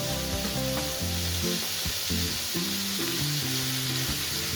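Mustard oil heating in a wok, a loud continuous hiss and sizzle close up with a steady low hum underneath, no pauses.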